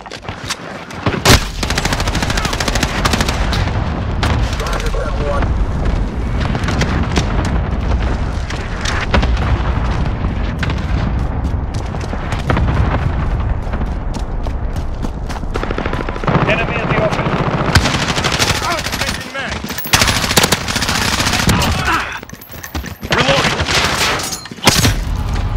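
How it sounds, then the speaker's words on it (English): A Call of Duty Modern Warfare match at Hackney Yard brings a cluster strike: dense, continuous booming explosions mixed with gunfire, loud and close throughout, with a few brief drops before the barrage resumes. "Enemy cluster strike incoming."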